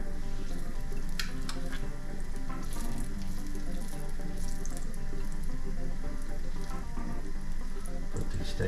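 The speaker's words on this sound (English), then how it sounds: "Put these steaks right down in that oil there. Let them start frying up." Chicken fried deer steaks sizzle and crackle in hot oil in a pan, a loud, dense, continuous frying hiss with scattered pops, close up and without talk.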